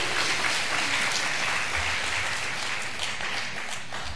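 A church congregation breaks into applause, a thick, even wash of many hands clapping that fills the sanctuary and holds steady for about four seconds with no speech on top.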